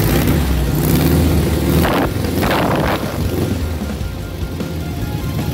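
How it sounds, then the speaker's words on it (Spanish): A dune buggy engine with a rebuilt motor runs loud and close, a continuous throaty roar that swells briefly in a couple of short revs before settling back to a steady drone. "Voy a acelerártelo un poquito para que veas cómo suena esto."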